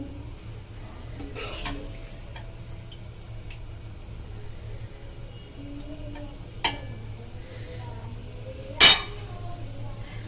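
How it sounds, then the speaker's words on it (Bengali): Potato curry being served into a bowl in a quiet kitchen, with a few sparse clinks of a spoon against dishware, the last one the loudest, over a low steady background hum. "দেখুন আমি বাটিতে সার্ভ করে দিচ্ছি"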